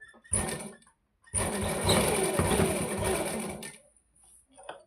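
An electric sewing machine stitches cloth near the edge of a fabric piece in two loud, fast rattling bursts, a short one followed by a longer run, separated and trailed by brief pauses.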